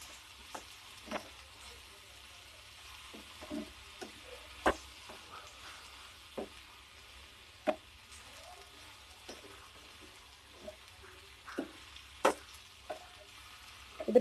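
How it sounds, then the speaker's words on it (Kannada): Pieces of bitter gourd fry in oil with a soft, low sizzle, broken by scattered small crackles and light stirring clicks against the pan, heard close and fairly quiet. "ಈ ರೀತಿ ಎಣ್ಣೆನಲ್ಲೇ ಚೆನ್ನಾಗಿ ಹುರ್ಕೊಳ್ಳಿ ಇದನ್ನ"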